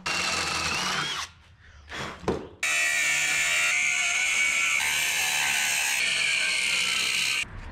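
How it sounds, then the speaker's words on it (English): A power tool grinds through scrap angle iron in a steady, loud cut of about five seconds, following a few short bursts, the tool revving up and down, with a brief pause after. "I'm gonna cut them out of this scrap angle iron right here."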